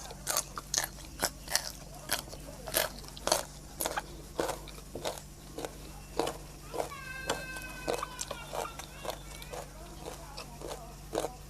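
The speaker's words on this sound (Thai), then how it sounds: "เป็นแบบกรุบกรุบค่ะพี่น้อง" Mushroom curry made with tap tao mushrooms, eaten with sticky rice, gives off close, repeated crunchy chewing bites in a steady rhythm, with faint squeaky sounds partway through.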